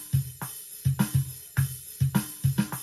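GarageBand MIDI drum pattern with hi-hat hits at varied velocities, a steady looping groove of crisp ticks over soft kick thumps, some hits louder and others quieter, with no voices.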